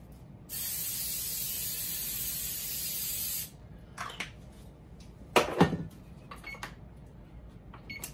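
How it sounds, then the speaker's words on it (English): Cooking spray misted over a cauliflower pizza crust in a home kitchen: one steady, close hiss lasting about three seconds, then a few clicks and a louder clatter. "spray it with a little cooking spray."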